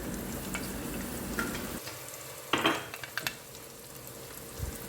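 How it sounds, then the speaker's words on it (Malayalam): Fenugreek seeds drop into hot oil in a curry pot on the stove, giving a soft steady sizzle, then a sharper burst of crackling and a few light clinks, with no talking. "ഇനി നമുക്ക് ഒരു കറിച്ചട്ടി അടുപ്പത്ത് വെച്ച് എണ്ണ ചൂടായതിന് ശേഷം അല്പം ഉലുവായിട്ട് കൊടുക്കാം"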